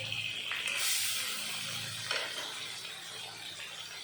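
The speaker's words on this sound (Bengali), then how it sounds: "এই পাশ ওই পাশ করে মাছ আমি এখন ভেজে নেব।" Fish pieces fry in hot salted oil in a wok, producing a soft continuous sizzle and hiss with a brief burst of spattering near the start, fairly quiet and close.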